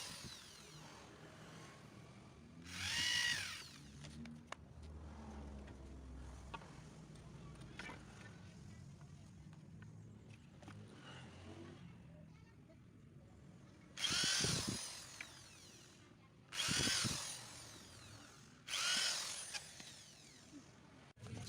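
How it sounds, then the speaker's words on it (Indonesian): A power drill bores into the ends of wooden boards, notched for joining a hydroponic rack table, in several short loud bursts close by, with quieter handling noise and low murmuring between them. "Bor semua ujung kayu yang sudah kita koak."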